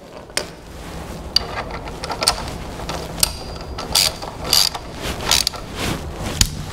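A 17 mm axle screw on a BMW R1200RT motorcycle wheel being tightened with a wrench to 50 newton meters, giving a run of close, dry ratcheting clicks and metallic ticks in irregular bursts, with no talking.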